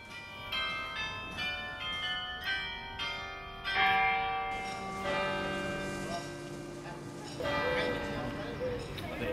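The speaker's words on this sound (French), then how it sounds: "Le carillon, installé dans la tour Saint-Jean-Baptiste depuis plus de 50 ans" Carillon bells in the Saint-Jean-Baptiste tower in Wavre play a melody of bright, ringing strikes that overlap and sustain, with a denser cluster of notes partway through and a long resonant decay.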